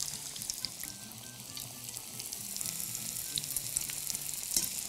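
Meat samosas filled with peas, potatoes and curry frying in oil, giving a steady, dense sizzle and crackle close by that holds evenly throughout, without speech.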